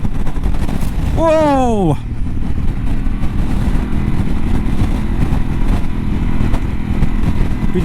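Heavy wind roar buffets a motorcycle on a high road, a loud continuous rumble throughout, with a rider's brief exclamation rising over it early on.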